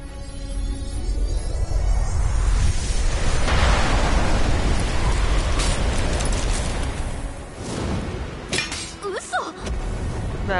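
Tempest storm spell cast in the video game Astria Ascending: a loud, sustained roar of rushing wind and rain-like noise with thunderous rumbles, swelling and easing over several seconds, ending in a few sharper crackling bursts.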